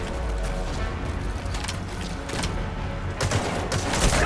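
Sustained gunfire in Metal Gear Solid V: The Phantom Pain, a dense, continuous fusillade of overlapping shots with sharper bursts toward the end, loud and close with no talk.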